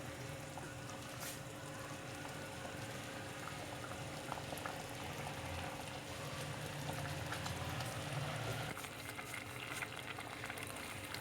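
Sago tapioca pearls boiling in a pot, a quiet, steady bubbling and popping that continues unbroken.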